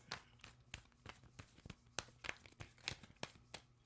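A tarot card deck being shuffled by hand, a quiet, close series of crisp riffling snaps and papery flicks in an irregular rhythm, alone with no voices.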